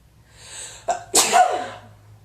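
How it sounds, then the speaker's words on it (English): A quick indrawn breath, then one loud, close sneeze that tails off into a short exhale. "Sorry, gonna have to sneeze."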